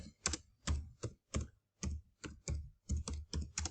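Fingers type on a computer keyboard in a quick, uneven series of about a dozen close, crisp key clicks with short gaps between them.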